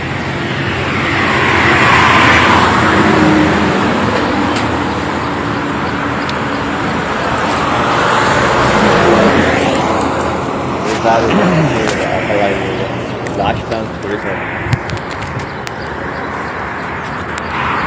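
A vehicle moving along a road near the Nagamangala sugar factory, its engine and tyre noise swelling and fading as it passes close by, while someone talks over it.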